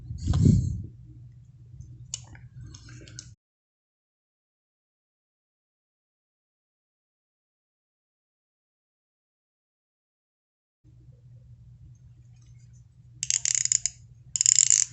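The rotating bezel of a Vostok Amfibia Turbina watch gives faint, close clicks in a short run at the start. A long silence follows, then another brief burst of crisp clicking near the end.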